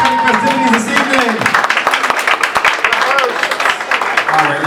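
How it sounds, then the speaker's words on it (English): Wedding reception guests clapping in a busy, uneven burst of applause, loud and close, with a voice over a sound system talking at the start and again near the end. "how about a round of applause for King festivities this evening?"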